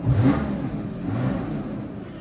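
A Porsche Cayman S (981) engine revs loudly at first, then settles into a steady, throaty drone that continues throughout.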